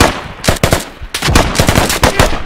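Bursts of gunshots in the video game Squad, loud and close: a couple of quick shots, then a rapid volley of repeated cracks over a couple of seconds.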